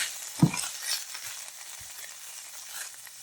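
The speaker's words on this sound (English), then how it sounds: "you cook the moisture out of the mushrooms before you go on to the next step" Canned mushrooms sauté in a 12-inch skillet with a soft, steady sizzle, and a utensil knocks against the pan once clearly near the start and a couple of times faintly later.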